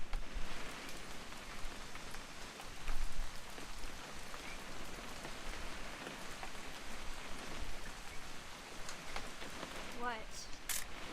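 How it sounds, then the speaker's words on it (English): Steady rain falls in a continuous hiss in the video game What Remains of Edith Finch, with scattered drops tapping nearby and a brief chirping sound near the end. "It's gonna rain the whole weekend, isn't it?"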